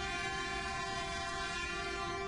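A train whistle sounds from a Minecraft train mod (MegaTrainCraft, version 1.6.4), held as one steady, unbroken tone at a moderate level with no voices over it.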